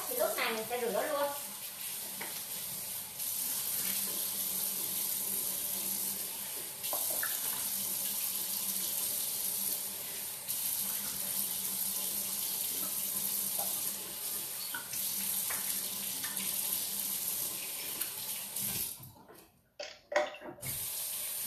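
Tap water runs steadily into a sink while a face-cleansing device is rinsed off, a continuous bright splashing hiss lasting many seconds before cutting off near the end with a few knocks.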